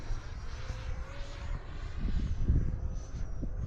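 A Freewing 70mm F-16 RC jet flies at full throttle, giving off a steady, rushing turbine-like whine that holds at a distant, moderate level and swells slightly toward the end, with no voices.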